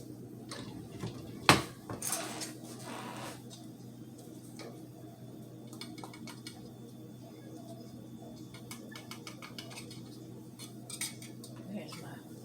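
Faint clinks and scrapes of kitchen utensils being rummaged through in search of measuring spoons, with one sharper clatter early on and a few light ticks later, in a quiet room.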